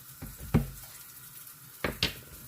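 Pork fat frying in a pan, a low background sizzle with a few sharp spatula scrapes and knocks against the pan, close and without talk.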